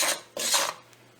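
Wheat flour being roasted and stirred in a pan, two rough, scraping sweeps of a utensil across the pan close up, then a brief quieter moment.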